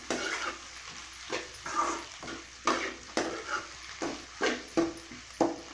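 Boiled, crushed potatoes are stirred in a pan with onions for poori masala, producing repeated scraping, sizzling strokes at an irregular rhythm, close and moderately quiet.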